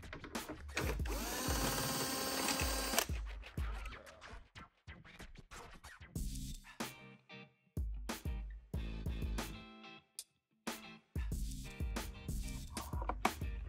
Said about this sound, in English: Using a T25 Torx bit, unbolt the factory speakers.